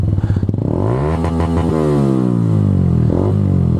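A Benelli BN 125 motorcycle with combined brakes winds up through rising, loud engine revs, then holds and drops in pitch as it slows during a braking test, close with wind noise and no talk.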